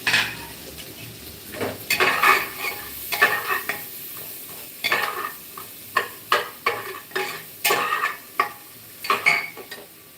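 Home-cooked food sizzles in a pan while a utensil stirs and scrapes it, giving repeated sharp clinks and scrapes over a continuous frying hiss, close and fairly loud.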